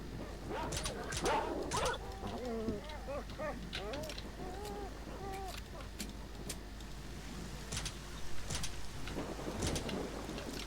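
Thunderstorm in S.T.A.L.K.E.R. Shadow of Chernobyl: continuous rain hiss with a few sharp thunder cracks and rumbles, while someone talks quietly over parts of it.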